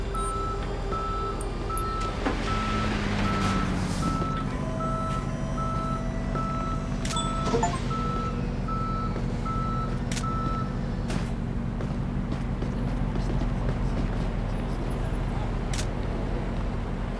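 A tow truck in Police Simulator: Patrol Officers backs up with steady, evenly spaced reversing beeps over a low engine rumble, a clear mechanical clunk partway through, no one speaking.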